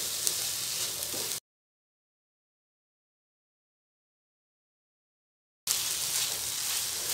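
Capsicum, tomatoes and other vegetables frying in a pan for paneer bhurji make a soft, steady sizzle heard in two short stretches separated by a few seconds of dead silence.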